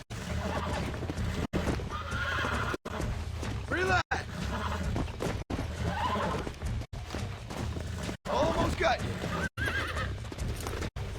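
A horse in Red Dead Redemption whinnies and neighs repeatedly while its hooves clip-clop, with someone talking over the game sounds; the audio cuts out briefly at regular intervals.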